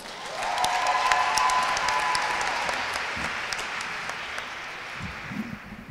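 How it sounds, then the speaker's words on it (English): Another round of audience applause fills a conference hall at a public conversation event, a broad, even wash of clapping that swells early and slowly tapers off over several seconds. "Let's give them another round of applause."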